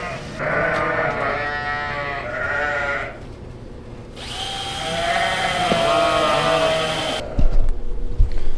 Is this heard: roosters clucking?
no